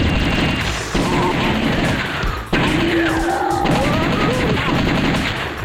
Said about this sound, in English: let's just shoot open every door